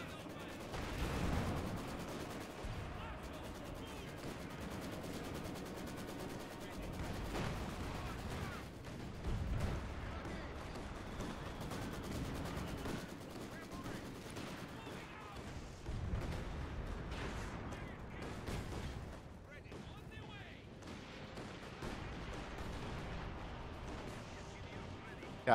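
Repeated heavy thumps and booms of mortar fire in a video game battle, a continuous barrage of impacts and gunfire at varying distance, with a voice talking over parts of it.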